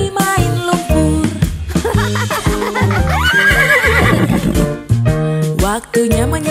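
A cartoon horse neighs within a bouncy children's preschool song, its high whinny rising over the music midway while singing and instruments continue around it.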